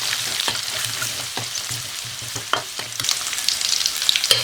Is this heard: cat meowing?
no